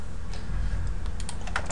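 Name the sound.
computer keyboard key presses in UVLayout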